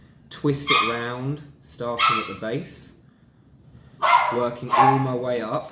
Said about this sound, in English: My apologies for my dogs.